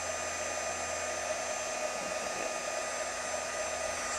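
A heat tool blows a steady, even whoosh with a faint whine as it melts embossing powder on a handmade Christmas card, continuous and close with no talking.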